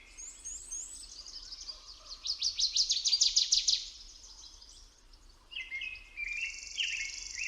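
Birdsong from the video game The Lion's Song: a run of bright, rapid chirps and trills, strongest in the middle of the stretch, then a few more tweets toward the end, fairly close against a quiet background.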